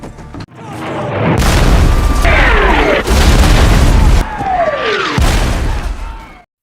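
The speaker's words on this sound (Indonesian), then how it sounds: "ledakan besar terdengar dari langit" Heavy explosions from falling bombs boom one after another, loud and close, with rumbling blasts and whistling falling sounds sweeping down between them.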